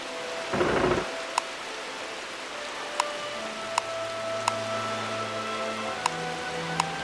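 Steady rain hiss from the Uncharted Waters video game, with sharp, evenly spaced thunder cracks or game ticks repeating about every second, a brief louder burst near the start, and low tonal music hums joining later, no talk.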